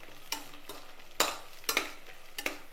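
Three slit green chillies lightly sautéed in a pan for coconut milk rice, a soft sizzle punctuated by several sharp spatula scrapes and taps, quiet and close.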